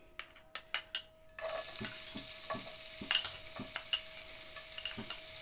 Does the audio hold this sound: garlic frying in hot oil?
yes